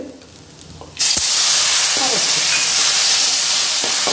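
Vinegar hits a hot pan while a rose apple pickle cooks, setting off a sudden loud sizzling hiss that holds steady for several seconds after a quieter start.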